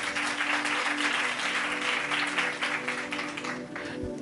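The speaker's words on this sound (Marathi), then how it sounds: "जरा जोरदार टाळ्या वाजवा." A church congregation gives sustained applause, a dense wash of clapping from many hands that stays even for several seconds and tapers slightly at the end.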